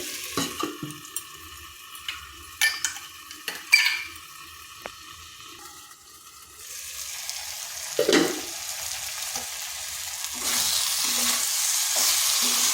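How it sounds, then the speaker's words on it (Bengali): Masoor dal ingredients with gathi kochu sizzle and fry in a pan while a utensil stirs and scrapes, giving scattered clinks and scrapes before a steady sizzle swells louder toward the end. "এটাকেও কিন্তু একটু ভালোভাবে কষিয়ে নিতে হবে।"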